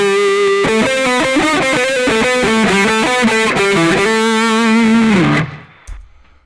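An electric guitar played through the ALX Distortion 3 preset on a Valeton GP effects unit gives a loud, fizzy, saturated tone, strumming chords and running a melodic line that stops abruptly near the end.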